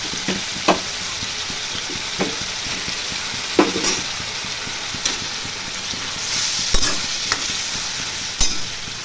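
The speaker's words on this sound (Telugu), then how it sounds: "ఇప్పుడు కరివేపాకు, టమాటా వేస్తాను." Curry leaves and tomato fry with onions in a pan for a traditional prawn curry, sizzling steadily while a spatula scrapes and taps now and then, with no one talking.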